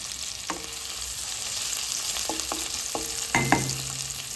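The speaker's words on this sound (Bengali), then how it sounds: "প্রথমে গরম তেলে, সর্ষের তেলে চলে যাচ্ছে পেঁয়াজ" Chopped onion frying in hot mustard oil, a constant bright sizzle with several sharp clicks and scrapes of stirring, close and alone.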